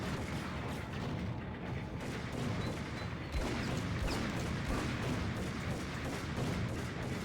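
Enemy gunfire in the Max Payne video game: a dense, steady barrage of shots and booming blasts runs throughout, loud and continuous, with a sharper burst near the middle.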